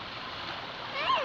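Clear, cold stream water runs steadily in a broad hiss along an off-road trail at Mallankuzhi, Kadangode, swelling slightly louder toward the end.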